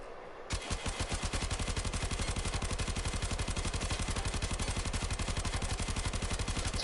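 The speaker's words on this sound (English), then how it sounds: "It's just pressing the trigger button, and that's the recoil of the Tenora." The Tenora gun in Warframe fires a long, rapid burst, a fast, even stream of sharp shots that starts abruptly after a short quiet moment and keeps hammering steadily to the end.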